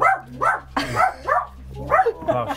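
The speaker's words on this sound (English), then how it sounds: "Tavern dog's angry." A dog barks angrily indoors, giving about six sharp, loud barks in quick bursts with short whimpery yips between them, close by.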